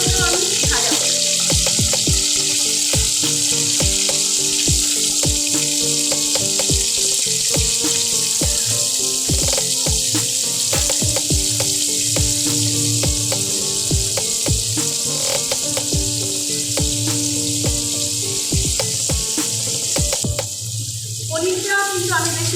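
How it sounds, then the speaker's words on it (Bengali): Paneer pieces frying in hot oil for an aloo paneer dish, a steady loud sizzle running throughout with scattered clicks and stirring knocks, under ongoing talk. "এবার এই তেলে আমি পনিরগুলোকেও একটু ভাজা করে নেব।"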